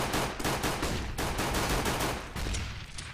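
Dense, rapid gunfire from a CS:GO match during a bomb-site fight, with overlapping bursts of automatic weapons fire crackling continuously at close range, loud throughout with no talk over it.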